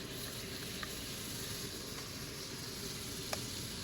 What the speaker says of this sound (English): I just added my shrimp in, and I'm gonna let that cook.